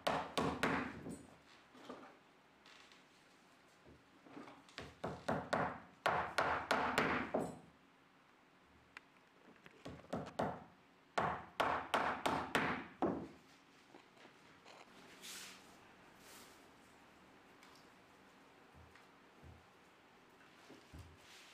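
Nails are hammered into wooden knobs on a wall scroll in rapid bursts of sharp taps, several quick blows per group with short gaps between, close and fairly loud with no talking.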